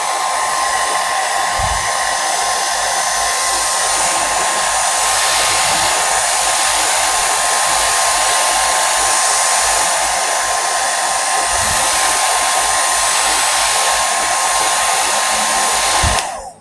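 A hair dryer blows loud and steady for the whole stretch, running alone without a break, then cuts off at the very end.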